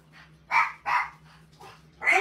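A dog barks close by at home in a few sharp, separate yips and barks over a low steady hum, alone with no talk.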